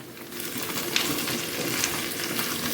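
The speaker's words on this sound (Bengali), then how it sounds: "এবার আম নরম হওয়া অবধি আপনাকে ভাজতে হবে" Raw mango pieces, cut with the skin on, frying with fenugreek seeds in a pan, giving a steady, close, dense sizzle with a few brief stirring clinks throughout.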